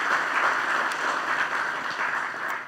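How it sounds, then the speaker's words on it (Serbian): An audience applauds warmly and steadily at a diploma ceremony celebrating the 50th anniversary of a college department in Vranje: dense, even clapping from a full hall, close and loud, without a break. "Molim vas još jedan aplauz za njih."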